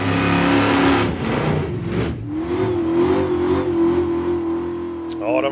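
Dodge Charger muscle car revving during a burnout show at the Wheels Nats Haparanda 2023 car event, a loud near engine roar that surges, dips and then holds a rising steady drone under crowd noise and a voice.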